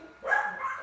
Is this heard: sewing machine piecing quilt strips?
no